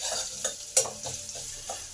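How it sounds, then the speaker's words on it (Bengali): A spoon of garlic paste frying in oil with cumin and chili, a soft close sizzle broken by brief stirring scrapes and one sharper clink, no voices. "এই সময় 1 চামচ রসুন বাটা দিলাম।"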